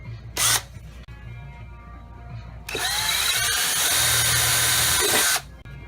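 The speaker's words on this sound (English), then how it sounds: "I still like to drill pilot holes." A power drill drills pilot holes for self-tapping screws in a floor pan, whining in two bursts, a short one first, then a longer steady spin of several seconds before it stops.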